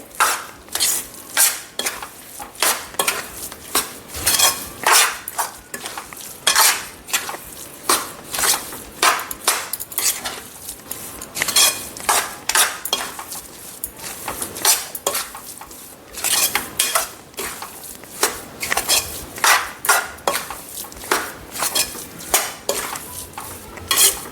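A spoon scrapes and clanks rhythmically against a pan while melting jaggery is stirred for Gujarati sukhadi, a fast, steady series of close metallic strokes with no talking.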